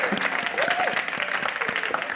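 A studio audience applauds during a TV comedy talk segment, a brief, lively spread of clapping from many hands, fairly loud and steady throughout.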